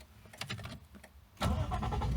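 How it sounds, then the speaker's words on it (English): Lexus IS200 engine starting after a stall in a driveway: a few quiet clicks and faint cranking, then the motor catches with a sudden loud rise into a steady, close idle rumble. "the car starts like normal"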